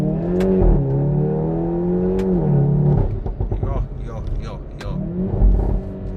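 Stage 2+ tuned Hyundai i30N with 333 hp accelerating hard: engine revs climb through gears with sharp shift breaks, then a fresh surge near the end, loud and close, with someone talking over part of it.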